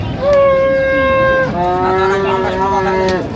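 A cow at a rural cattle market lets out two long, loud, close moos back to back, with faint crowd murmur underneath.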